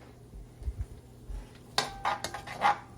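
A utensil scrapes and clinks against a hot wok while garlic and vegetables are stirred for a chicken stir fry with squash and mushrooms, giving a few close, sharp metallic scrapes over a quiet background.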